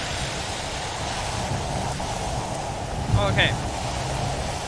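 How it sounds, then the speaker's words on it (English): Acid rain in a Roblox game falls as a steady, even hiss of broadband noise, with a brief spoken word near the end. "Acid rain, stay indoors."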